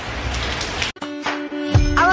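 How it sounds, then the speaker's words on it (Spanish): Rain falling steadily, a broadband hiss for the first second, then a pause and more pattering with other sounds mixed in. "hoy sí me sirvió mi chamarra para esta lluvia de hoy."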